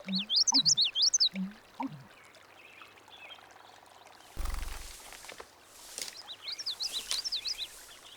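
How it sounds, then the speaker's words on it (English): Songbirds sing in a wetland, clear warbling phrases in bursts at the start, a brief low rumbling thud midway, then a fresh run of high chirping notes close by. "If the singing of the bird stops, beware of the wolf."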